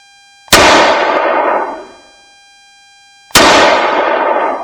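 Two loud, sharp gunshots from a CZ pistol ring out about three seconds apart, each followed by a short, decaying echo, close and clear with no talking.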